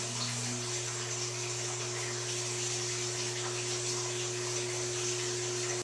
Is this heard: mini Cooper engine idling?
no